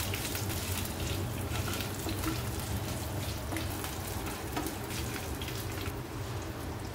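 Whole spices (a bay leaf, a cinnamon piece and five green cardamom pods) sizzle in hot oil in a pan while being stirred, a steady close crackling hiss that runs without a break and with no voices.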